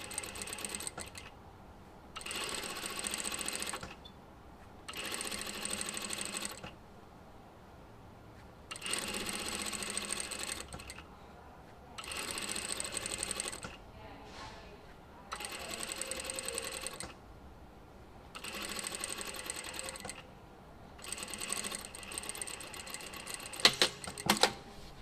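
Sewing machine topstitching cotton bias binding in black thread, running in repeated steady bursts of a second or two separated by brief pauses, close and fairly loud, with no talking.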